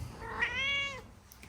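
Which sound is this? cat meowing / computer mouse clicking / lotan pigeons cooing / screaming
cat meowing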